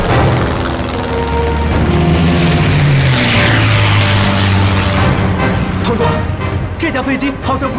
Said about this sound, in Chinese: 师长，你们看飞机！